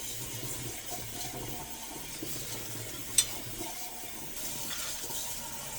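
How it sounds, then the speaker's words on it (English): Running tap water rinses out an empty tin can of mixed beans at a sink, a steady close hiss and splash with one brief metallic clank and no talk. "rinse the can out."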